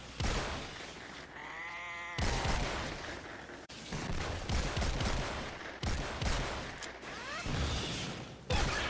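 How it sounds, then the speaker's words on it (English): The Tigerjaw shotgun in Fortnite Save the World fires off a run of sharp, booming blasts in quick succession, punctuated by in-game effects, with no talking over them. "You want to see what kind of power this gun has?"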